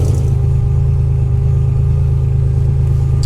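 A 1987 Buick Grand National engine runs at a steady low rumble with a faint mechanical clatter. It is loud and close, with no voices.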